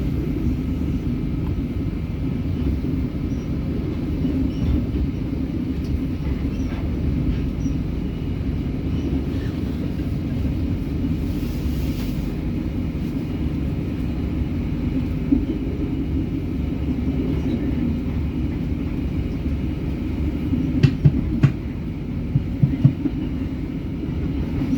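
Inside the Brawijaya, an older long-distance executive train, a steady low rumble of wheels and carriage builds on departure from Kepanjen station, with occasional light clanks.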